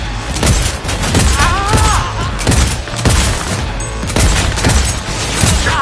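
Gunfire in the video game Cyberpunk 2077 on PS5 runs as dense, continuous bursts of shots and booms with heavy low thumps. Shouted voices come through only briefly.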